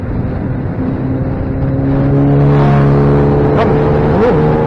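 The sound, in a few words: motorbike passing on highway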